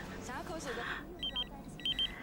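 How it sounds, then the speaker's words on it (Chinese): A telephone rings twice in short paired electronic trills behind quiet indoor talk, fairly faint and distant in the room. "心怡，快听电话。"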